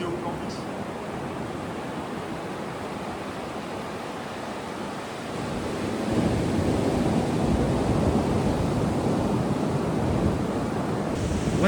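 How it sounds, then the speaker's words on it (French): Ocean waves in Bali surging and washing continuously, a broad steady roar that swells louder halfway through, with wind buffeting the microphone and no talking. "Oh là là, regardez les vagues, regardez."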